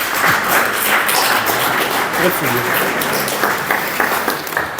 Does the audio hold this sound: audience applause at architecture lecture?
yes